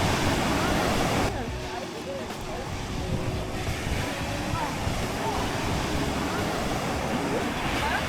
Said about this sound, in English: Pacific Ocean.